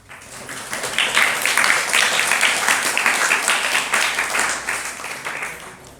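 An audience claps during a Sunday Jain sermon, a dense, steady patter of many hands that rises quickly after a soft start, holds for several seconds and tapers slightly at the end, with no talk over it.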